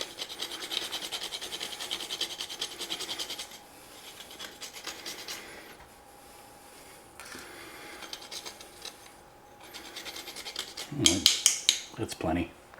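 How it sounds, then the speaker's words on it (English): Potatoes rasped against a box grater for potato pancakes: steady scraping strokes that fade partway through, then a few sharper clattering metallic knocks near the end, with faint background noise. "Because the side of the box grater will work too."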